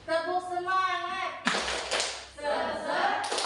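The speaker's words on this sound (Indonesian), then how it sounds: "Tepuk semangat." A group in a training session performs a rhythmic spirit clap, bursts of hands clapping together in a pattern, close and loud, following a sung or chanted voice at the start.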